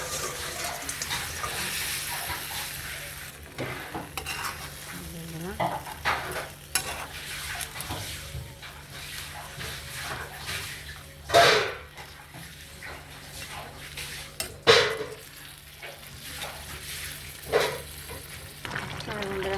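Fish simmers and fries in a bubbling turmeric and salt spice mix in a pan, a soft continuous sizzle broken by a few louder scraping clanks of stirring.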